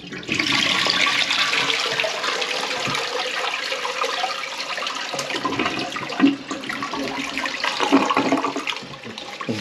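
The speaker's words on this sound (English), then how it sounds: "Flush it again." A toilet flush roars with rushing water for several seconds, then gurgles and swirls as the bowl drains and refills during a clog repair, loud and close with no talking.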